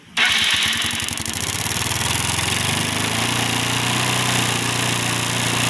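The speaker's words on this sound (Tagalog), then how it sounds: "pandarin mo boy, tapos gasan mo" A Yamaha Mio scooter with its stock ignition coil cranks and catches, then revs loud and steady at close range, its engine drone holding high throughout with no talking.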